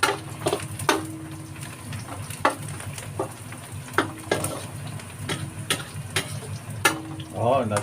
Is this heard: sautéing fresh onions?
yes